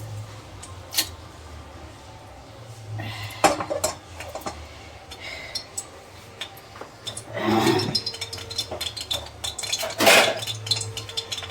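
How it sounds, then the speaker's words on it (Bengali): Metal pots, a wok and utensils being scrubbed and washed by hand in a home kitchen, with sporadic clanks and clinks scattered over quiet water and scrubbing noise, growing busier and louder near the end. "একবারে মাজবো বাসনগুলো একবারে"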